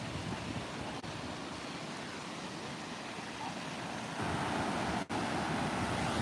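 Ocean waves at Enoshima Beach in Kamakura wash in as a steady, broad roar of surf that swells slightly louder toward the end, with no voices.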